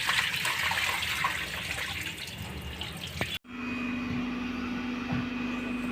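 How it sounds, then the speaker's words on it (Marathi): Wheat grains being washed with water, a close sloshing, dripping wash for about three seconds that stops abruptly, followed by a quieter steady hum. "1 2 3 पाण्याने धुवून घेऊया"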